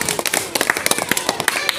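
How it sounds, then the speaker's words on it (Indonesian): Students in a physical education class clap for a classmate, a handful of close, sharp, uneven hand claps with voices talking over them. "Oke, kita beri tepuk tangan untuk Meldi dulu."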